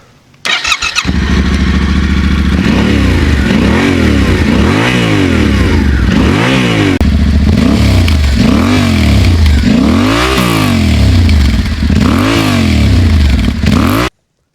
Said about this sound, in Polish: Sprawdźmy, jak tenera brzmi na Krapowiczu.